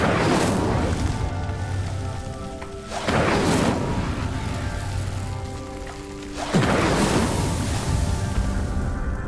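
Incendio fire spell cast in Hogwarts Legacy, heard as loud, rumbling bursts with crackling whooshes that swell at roughly three-second intervals over a sustained roaring background, with no talking.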